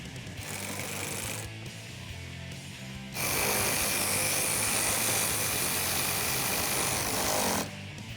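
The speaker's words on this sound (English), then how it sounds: "take a 10mm socket and we're going to snug up these 2 bolts here" A 10mm socket snugs up two fender flare bolts on a 2016-2021 Toyota Tacoma, giving a short mechanical whir followed by a longer, louder, steady buzzing run of several seconds that stops sharply.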